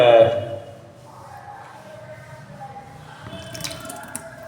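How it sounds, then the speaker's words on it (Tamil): Soured curd poured into a container to make plant fertilizer, a short liquid splash at the start followed by faint dripping and trickling, quiet and close. "புளிச்ச தயிரை இதில் ஊற்றுறோம்"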